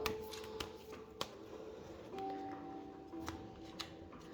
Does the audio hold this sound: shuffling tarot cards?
yes